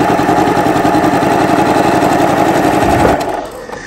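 A sewing machine runs steadily at speed, stitching quilt binding with a triple zigzag stitch, a loud continuous mechanical whir with rapid needle pulses that winds down and stops near the end.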